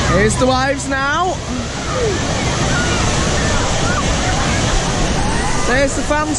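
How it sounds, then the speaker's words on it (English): The wave pool at Universal's Volcano Bay water park surges in a continuous loud wash of churning water, with a crowd's voices and shouts mixed in at the start and end. "Here's the waves now."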